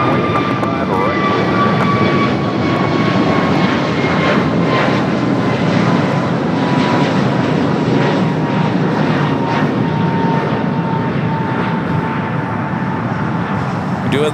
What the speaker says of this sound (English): That American flight heading to Vancouver, flight 1719 A321 Neo.